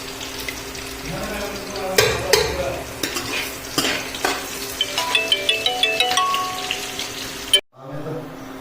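Onions sizzle and crackle in hot oil as a tempering for saag, with a burst of clinking utensil taps and stirring, then the sizzle cuts off abruptly near the end.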